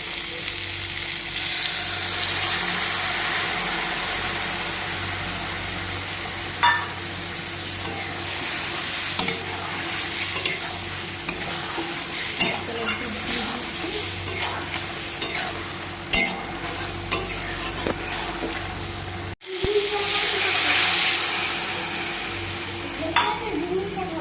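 Vegetable curry with coconut milk cooks in a pan and gets stirred, giving a steady sizzle with scraping and clinking strokes throughout, briefly cutting out near the end and then resuming.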